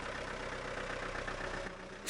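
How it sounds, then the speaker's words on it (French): A slow car's engine idling, a quiet low steady rumble that fades slightly before a brief bright burst at the very end. "C'est une voiture lente."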